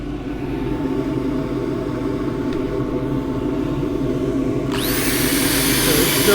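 A wooden bowl spins on a lathe under a steady motor rumble, then 240-grit sandpaper meets the surface and a loud, close abrasive hiss starts near the end.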